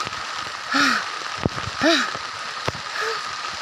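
Steady rain falls outdoors as a constant broadband hiss, with a few faint sighs or breaths and sharp clicks over it.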